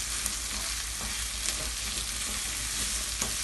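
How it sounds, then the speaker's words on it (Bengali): Onion and garlic sizzle steadily in hot oil while they are stirred, with a close, continuous frying hiss and a few soft scrapes of the spoon. It comes from a salted hilsa bagar dish being cooked. "পেঁয়াজ আর রসুন তেলের উপর দিয়ে দিলাম। এখন আমি করবো কি, এখানে একটু নাড়া দিয়ে নেব"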